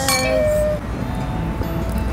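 Glasses clink once in a toast at a waterfront restaurant, a bright ringing chink that fades out under low room ambience.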